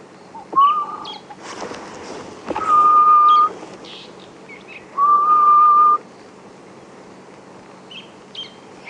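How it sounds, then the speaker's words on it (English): A grey-headed bush shrike gives a few clear, low whistled notes, each held steady for about a second, with faint background chirps and rustling outdoors on a game reserve. "That is the sound of a grey-headed bush shrike"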